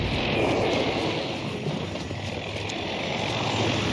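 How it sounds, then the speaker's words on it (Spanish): Helicopter rotor and engine noise from a video game, loud and steady for a few seconds with no speech over it. "Helicóptero."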